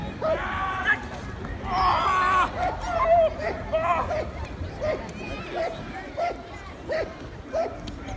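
A French national police dog barks repeatedly in a steady rhythm during training, fairly close, over a background of people talking.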